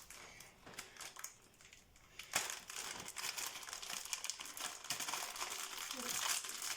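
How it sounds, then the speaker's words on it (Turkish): A crinkly potato biscuit package is torn open and handled, giving close, quiet crackling and rustling that grows denser and busier toward the end, with a few sharper crinkles along the way. "Patatesli bisküvimizi açıyoruz."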